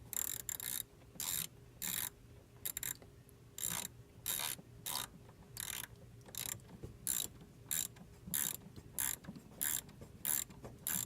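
A ratchet with a 10mm socket turns the firewall bolts on a 1985 Oldsmobile Delta 88 during heater core removal, making a long, steady series of faint, rapid clicking bursts that repeat in an even rhythm.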